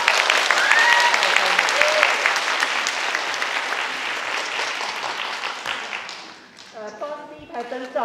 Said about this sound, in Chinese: 让我们用掌声迎接他吧。